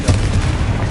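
Confringo explosive spell blast in Hogwarts Legacy, a single loud, dense burst with a rumbling low body that fills the whole moment.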